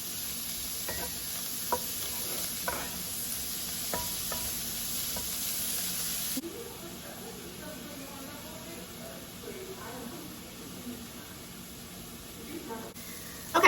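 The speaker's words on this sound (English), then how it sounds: "I'm going to go in with our mushrooms, and we're going to saute these until they become nice and tender" Mushrooms sautéing in a pan for keto cream of mushroom soup, a soft, steady sizzle with occasional light stirring clicks, quiet and close.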